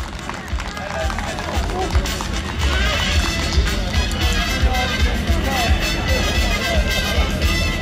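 Horses' hooves clip-clop steadily during a horse parade in Baia Mare, Maramureș, with a crowd murmuring and occasional faint clapping around them, fairly close and continuous.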